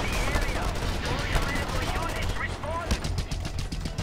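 Mounted machine gun on a Jeep firing in Just Cause 2, a steady dense rattle of rapid bursts running the whole time, loud and close amid explosion clutter.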